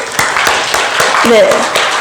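Church congregation applauding to encourage newly appointed committee chairpersons at a Sunday afternoon dedication service, a steady patter of many hands with a voice speaking over it.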